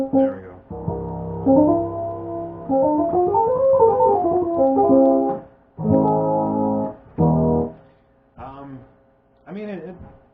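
A Roland EP-6060 analog electric piano plays sustained harmonic notes and chords, loud and close, with a long held phrase followed by shorter stabs and a few brief, fainter notes near the end.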